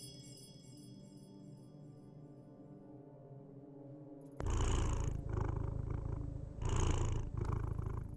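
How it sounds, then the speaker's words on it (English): A cat in the video game Tokyo Dark purrs in a low, rumbling loop. The purr starts quiet under a soft musical tone, then turns loud and close in rhythmic pulses. "Purring ASMR."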